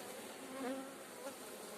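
Honey bees hum faintly at an open hive frame during beekeeping, a soft, steady buzzing with a slight rise partway through a very short stretch.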